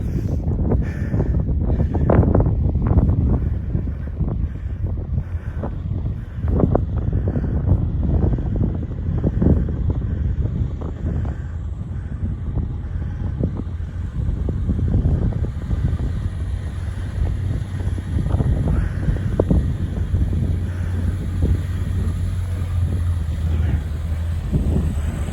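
Strong wind buffets the microphone on an exposed hilltop along an off-road lane, a steady loud roar with low rumbling gusts throughout, no speech.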